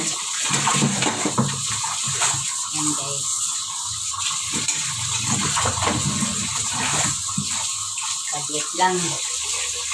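Tap water gushes steadily into a sink while a stack of plates is washed, with light clinks of dishes and a person talking briefly over the running stream.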